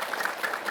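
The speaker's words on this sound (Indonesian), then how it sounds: "tepuk tangan dulu dong" Brief burst of audience applause at a religious talk, a dense wash of many hands clapping at once, steady and fairly faint throughout.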